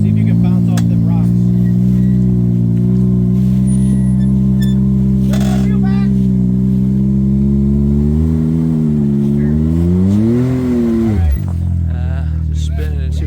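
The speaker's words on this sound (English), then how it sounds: "Just spinning in two-wheel drive." A RZR off-road vehicle on a rocky mountain trail revs hard in two-wheel drive, its wheels spinning, a loud sustained engine drone that rises and swoops in pitch before cutting off, with people talking over it.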